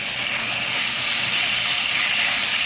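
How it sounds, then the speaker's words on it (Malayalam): Marinated chicken pieces hit a pan of sautéed garlic, meant for a chicken wheat spaghetti dish, giving a steady, loud, close sizzling hiss that holds evenly throughout with no talking. "ഇനി ഇതിലേക്ക് ചിക്കൻ പീസസ് ഇട്ട് കൊടുക്കാം നേരത്തെ മാരിനേറ്റ് ചെയ്ത്"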